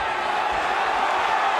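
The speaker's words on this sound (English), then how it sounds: "And the crowd is definitely going to react." Arena crowd at a UFC 38 fight in 2002, a steady broad roar with faint cheering that holds for the whole moment.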